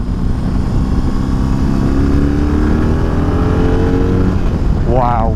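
A BMW R18 motorcycle engine heard while riding and cornering, a loud steady low rumble with a slowly rising tone and wind rush, ending in a quick rev swell; a rider's voice is partly audible over it.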